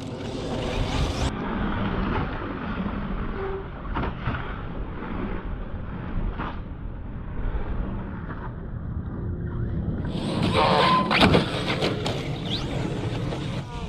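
Radio-controlled cars, a Mojave 4S and a Slash, driving hard and bashing outdoors, giving a steady motor whine and rumble with knocks and clatters of impacts, and a louder crash near the end.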